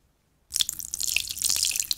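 Sound effect of someone peeing: a steady, close water trickle that starts abruptly after a half-second of silence and continues with small drips and splashes, no voices.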